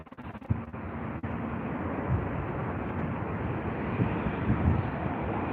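An Airbus airliner on the runway at London Heathrow, a broad, steady roar of jet engines building slightly over a few seconds, heard from a distance with no voices.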